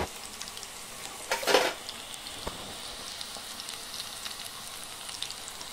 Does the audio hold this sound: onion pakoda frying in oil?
yes